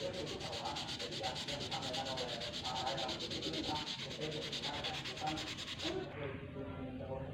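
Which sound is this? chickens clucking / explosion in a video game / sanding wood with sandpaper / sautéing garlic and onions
sanding wood with sandpaper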